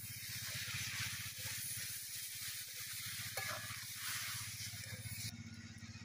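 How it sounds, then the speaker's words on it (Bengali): Water poured into a pan of sizzling lentil dal, giving a steady loud hiss and bubbling that runs throughout, with a brief clatter midway and a change in tone near the end. "জল দিয়ে দেব।"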